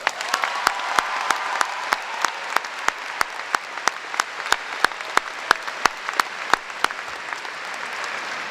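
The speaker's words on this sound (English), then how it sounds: "Please give them a round of applause." Steady applause from an audience at a high school graduation ceremony, many hands clapping continuously for several seconds with sharp individual claps standing out, no talk over it.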